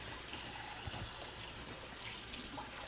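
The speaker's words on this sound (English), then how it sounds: "And I'm going to wash my hands real fast." Hands being washed under a running kitchen tap, a steady broadband rush of water with small splashes and shifts in the flow, close and continuous with no voices.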